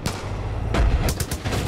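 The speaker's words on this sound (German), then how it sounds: "Ich schieße nur auf den Fahrer." Gunfire in the video game Far Cry 5, a few sharp shots cracking out in quick succession over steady game noise, with a heavier boom near the middle, close and fairly loud.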